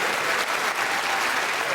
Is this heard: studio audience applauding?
yes